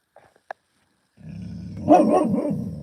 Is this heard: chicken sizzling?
no